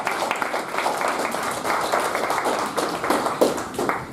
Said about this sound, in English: Big round of applause to Toastmasters.